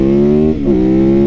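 A Yamaha motorcycle's engine holds a steady loud harmonic drone up close, then briefly dips and climbs in pitch as the rider rolls on the throttle and accelerates hard.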